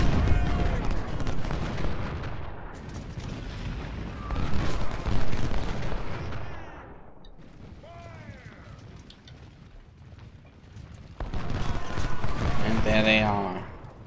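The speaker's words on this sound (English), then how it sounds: "Logan under counter battery fire" Artillery booms and rolling volleys of musket fire from a Civil War strategy game at the Battle of Thoroughfare Gap, rumbling steadily beneath someone talking almost throughout, with a louder burst near the end.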